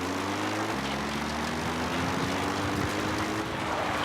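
A support helicopter arrives in the video game Metal Gear Solid V: The Phantom Pain, its loud, continuous rotor and engine drone rising gradually in pitch and filling the whole stretch with no voices.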